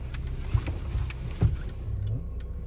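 A car's engine hums low and steady as it pulls away from a standstill after the handbrake is released and it is put in drive, with a couple of soft thumps and a faint rising whine.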